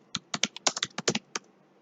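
A computer keyboard is typed on in a quick, uneven burst of about a dozen crisp, close key clicks in a quiet room, with no talking.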